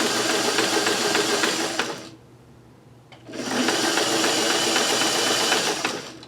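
A sewing machine runs a zigzag stitch along a fabric ribbon in two fast, buzzing bursts separated by a short pause, loud and close with no talking.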